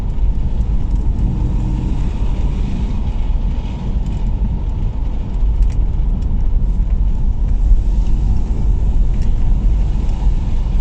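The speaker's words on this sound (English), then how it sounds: "That V6 soundtrack is beautiful as well." A 1989 Ford Granada Scorpio Mk3 with a 2.9i V6 drives along, its engine a continuous deep rumble mixed with road noise, steady and fairly loud throughout.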